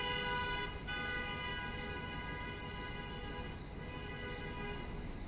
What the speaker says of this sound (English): Someone angrily honking.